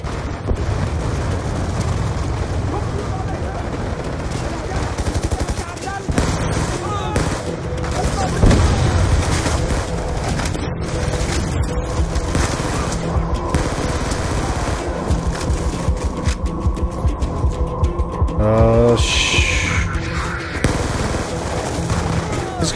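Rapid bursts of gunfire and explosions in the Black Ops 2 campaign, loud and dense, with automatic weapon fire rattling continuously and occasional heavier booms, a voice talking over the action.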